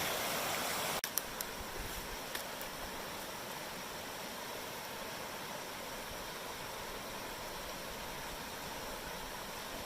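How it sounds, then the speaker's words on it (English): A creek on the Appalachian Trail rushes in a steady broadband wash, constant and fairly near, with a couple of faint knocks early on and no voices. "What a nice creek."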